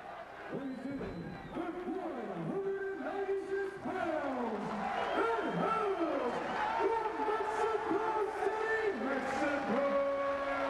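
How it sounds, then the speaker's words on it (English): Wrestling crowd at an ECW event in New Orleans gives a mixed reaction, a sustained roar of cheers and jeers with whistles and chanting voices throughout. "Mixed reaction from this crowd."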